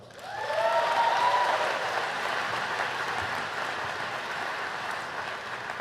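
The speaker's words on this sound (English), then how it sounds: "So give a round of applause for yourself." A graduating MBA class at a university commencement ceremony breaks into sustained applause from a large audience, swelling quickly and holding steady, dense and even, with no talk over it.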